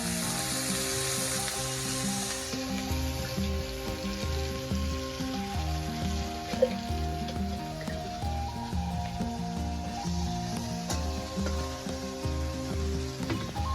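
Onions already browned sizzle in a pan of oil for a wild-vegetable dish, a steady dense crackle and hiss held close and unbroken throughout, with a faint background whine and no speech.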